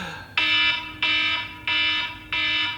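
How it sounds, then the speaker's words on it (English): An alarm sounds alone in four loud, evenly spaced buzzing pulses, each holding steady for about half a second before a short gap. "Sorry, it's my alarm."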